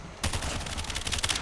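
Rapid automatic gunfire in a Call of Duty Mobile zombies match, a dense continuous burst starting after a short quiet lead-in and holding steady, loud and close, with no talk over it.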